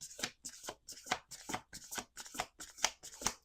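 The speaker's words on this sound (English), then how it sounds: "2 more shuffles." Oracle cards are shuffled by hand in a quick series of close, crisp riffling bursts, about eight in steady rhythm, with no talk.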